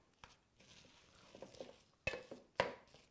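A spoon working thick oatmeal dog treat dough in a bowl: soft scraping and squishing, then two sharp clinks of utensil against the bowl, all close and quiet with no talking.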